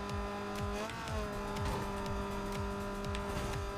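Lamborghini Huracan racing in Need for Speed Most Wanted, a loud, steady high-revving engine whine with gear-shift pitch drops and sustained engine drone, no speech over it.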